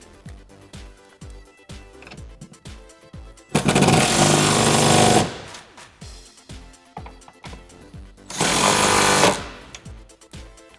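A power tool drives home the rear mounting bolts of a racing seat in a 1979–2021 Ford Mustang with a 15mm socket, two loud sustained whirring bursts standing out among close, lighter rattles and clicks.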